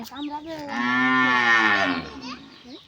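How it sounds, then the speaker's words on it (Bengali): A cow gives one long, loud moo from nearby in a rural Bengal village. The call swells for more than a second and then fades, with a few quieter sounds before and after it. "গরুতে ডাকতে"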